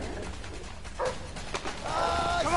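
Dogs chasing in the video game A Way Out give short, fairly distant barks and yelps over a busy, noisy game soundscape, with a brighter burst near the end.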